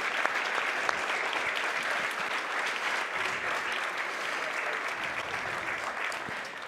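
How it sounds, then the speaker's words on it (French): Audience applause at a water conference, dense sustained clapping from a large room filling the whole stretch at an even level, with no talking. "On peut applaudir."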